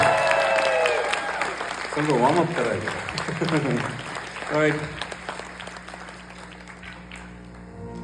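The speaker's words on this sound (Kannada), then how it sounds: "ಒಂದ್ಸಲ ಜೋರಾದ ಚಪ್ಪಾಳೆ ಉಸಿರು ಇಂಟರ್ನ್ಯಾಷನಲ್ಗೆ ಬಂದ್ಬಿಡ್ಲಿ." A concert crowd at a show applauds, a loud wash of clapping that fades over several seconds while someone talks and sings over it.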